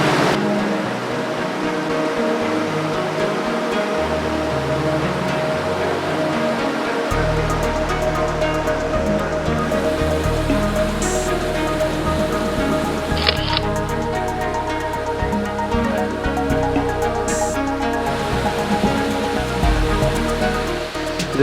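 Waterfall on the trail to Big Almaty Lake in Kazakhstan, a steady loud rushing roar of falling water that fills the whole stretch without pause.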